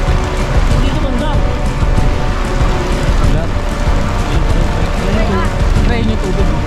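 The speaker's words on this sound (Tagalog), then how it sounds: "Pero hindi namin mapigilan dahil sobrang lakas talaga ng ulan." Very heavy rain pours at a campsite, a loud, dense, continuous hiss and patter close by, with people talking underneath.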